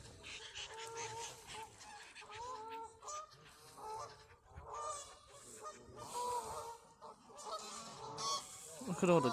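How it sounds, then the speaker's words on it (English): A large flock of geese on a lake in Sutton Coldfield park, loud overlapping honks coming in irregular bursts that grow busier and louder toward the end. "Look at all the geese."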